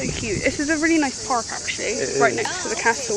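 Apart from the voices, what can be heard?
crickets chirping in a park by a pond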